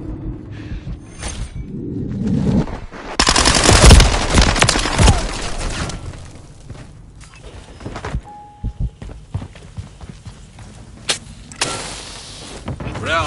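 Gunfire in Call of Duty: Modern Warfare 3 multiplayer, with loud bursts of shots clustered mid-clip among thuds and other game noise, and a voice now and then.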